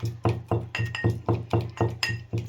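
Sour yogurt and garlic chutney pounded in a mortar, nine evenly spaced knocking thuds with a slight clink, each one sharp and close, in a steady rhythm with no talking.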